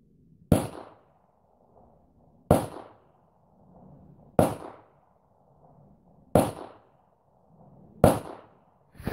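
Five shots from a 9mm pistol firing 147 grain bullets, sharp loud cracks spaced about two seconds apart, each with a short fading echo, no talking.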